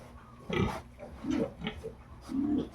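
A sow grunts in short, low bursts, four or five separate grunts spaced irregularly and heard close up.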